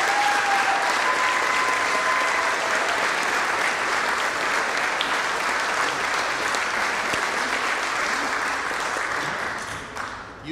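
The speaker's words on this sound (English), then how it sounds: "give a nice, big, warm round of applause" A large crowd applauds steadily for about ten seconds, loud and sustained, tapering slightly at the end.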